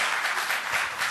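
Brief burst of audience applause at a lecture on religion, science and Darwin, a dense patter of many hands clapping at once, heard alone for about a second.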